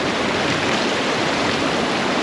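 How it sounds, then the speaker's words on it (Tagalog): The Pulangi River in Valencia flows in a loud, steady broadband rush, close and continuous with no voices over it. "Ito yung Pulangi River."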